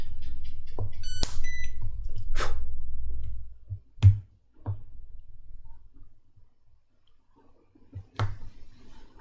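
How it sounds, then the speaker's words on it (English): A spot welder fuses copper braid onto a lithium-ion cell with a few electronic beeps and sharp clicks, then a single loud snapping weld pulse and a second one later, against a low steady hum. "I'm just going to do the first weld on the edge here"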